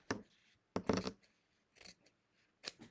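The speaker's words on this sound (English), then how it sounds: "let's cut this one apart just using scissors" Scissors cutting apart a fabric Ohio Star quilt block, four separate crisp snipping bursts at uneven intervals, close and clear against quiet.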